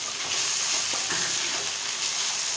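Peas and carrot pieces sizzle in oil in a pan while poha is being cooked, a steady bright frying hiss with faint stirring clinks, close and even, with no voices.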